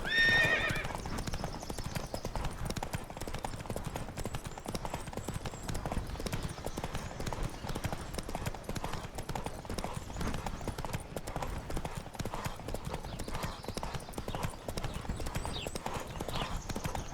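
Horses gallop in a race in The Witcher 3, their hoofbeats pounding steadily and loudly throughout with a whinny near the start.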